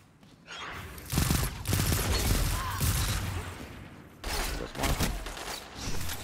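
Shotgun blasts and heavy gunfire in the Destiny 2 video game come in loud, dense bursts, a long volley in the first half and then a few more close bursts after a short lull.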